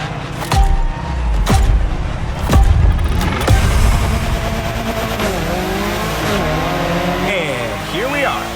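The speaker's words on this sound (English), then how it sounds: "He's going to drive the Alpines today." Alpine cars racing in The Crew Motorfest: loud engines revving and passing with sharp gear-shift bursts and sweeping pitch changes, tire squeals near the end, a voice talking over the action.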